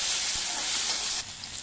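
Chopped tomato dropped into hot oil with mustard seeds, cumin and onion for sambar, a loud hissing sizzle that drops in intensity after about a second.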